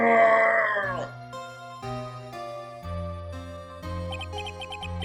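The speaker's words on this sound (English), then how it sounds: "It's that scream I heard in the elevator 15 years ago." In the Phoenix Wright Ace Attorney video game a loud scream rings out at the start, then fades into tense game music with tinkling notes.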